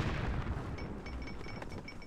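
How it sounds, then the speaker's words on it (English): Dense gunfire and artillery rumble in a Cossacks 2 battle form a continuous, noisy roar with crackling bursts throughout. "We are under enemy gunfire!"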